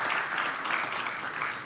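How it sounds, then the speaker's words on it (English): An audience at a town hall meeting claps in a steady round of applause, dense and sustained throughout. "please applaud the courage that took"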